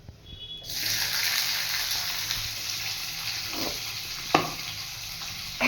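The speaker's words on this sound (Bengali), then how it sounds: "প্রথমে পেঁয়াজ আর কাঁচা লঙ্কাটা দিয়ে দিব" Onion and green chilli hit hot oil with cumin in a kadai, bursting into a sudden loud sizzle that settles into steady close frying, with a few sharp clicks and stirs.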